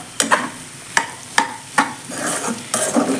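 Sliced bitter gourd and onions sauté in oil in a pan, a soft continuous sizzle punctuated by a series of sharp, irregular scrapes and clinks from a spoon stirring against the pan.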